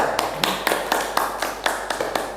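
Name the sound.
classroom applause for group 3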